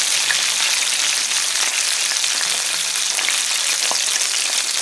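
Lake-caught fish with a cornmeal crust fries in hot oil, a loud, dense, continuous crackling sizzle close up, with no talking.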